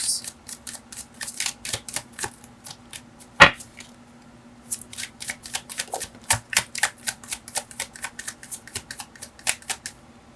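Tarot cards shuffled in a steady run of crisp riffling flicks, close and fairly loud, with one sharper slap partway through and a low steady hum underneath.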